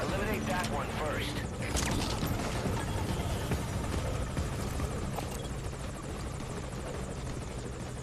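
Helicopter hovering in the stealth action game Metal Gear Solid V: Ground Zeroes, a loud continuous rotor and engine roar filling the whole stretch with steady thumping, with game noise mixed in.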